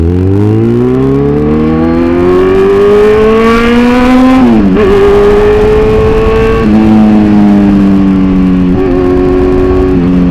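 Vehicle engine droning steadily on a highway ride, loud and close, with pitch rising as it speeds up, a sudden shift, then holding steady with smaller gear-like changes.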